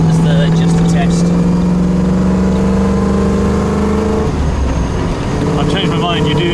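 An MG fitted with an RPi Engineering V8 is driven through its gears on test, a loud close engine note climbing in pitch, dropping at a shift partway through, then building again, with talking over it.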